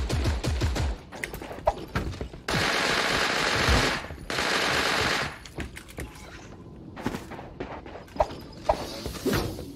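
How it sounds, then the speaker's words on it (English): Rapid Uzi fire in a Fortnite-style shooter game, several loud sustained bursts and scattered single shots rattling back to back, close and dominant throughout. "Uzi is just a god weapon in this game."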